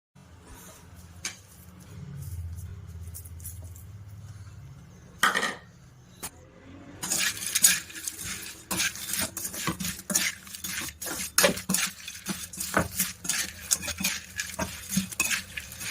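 Salt, masala and chilli powder being mixed into a broad bean (chikkudukaya) pickle: after a quiet lull, a steady run of spoon clinks and scrapes against a vessel, sharp and close, with no talk.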